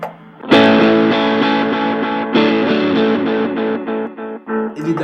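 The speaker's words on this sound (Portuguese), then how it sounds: "O som da guitarra com a distorção." Electric guitar played through a distortion effect, thick sustained chords ringing loud and close with a few re-struck changes, fading into choppier strums near the end, with no talk.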